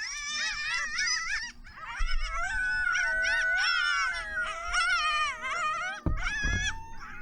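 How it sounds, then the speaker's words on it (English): A pack of coyotes howls, yips and whines together, with several wavering, overlapping voices rising and falling in long wails, then a sharp burst of yelps near the end. "it's just like it's a pack of coyotes"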